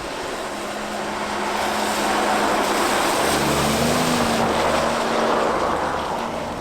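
A Maserati Grecale Trofeo SUV cruises through foothills outside Modena, its engine a steady low hum blended with broad road and wind rush heard from inside, rising slightly midway with no voices.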